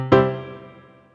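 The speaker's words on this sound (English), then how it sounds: "if I turn the reverb on, it sounds a bit more like we're playing in a hall." A single note on a Montford MFDP9 digital piano with reverb switched on, a clear close strike that rings and slowly fades with a roomy, hall-like tail, with no talking.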